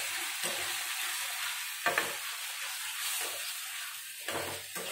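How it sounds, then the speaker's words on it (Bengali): A spice paste of cumin powder, coriander powder and salt fries in a pan for a fish curry with raw mango, a steady hissing sizzle with a few louder bursts of stirring and scraping, and no one speaking. "একটু মশলাটা কষিয়ে নেব।"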